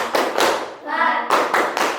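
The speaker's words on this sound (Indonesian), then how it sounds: "Tepuk semangat." Indonesian elementary schoolchildren in a classroom perform the 'tepuk semangat' clapping chant, with bursts of loud rhythmic clapping around a brief shouted chant in the middle.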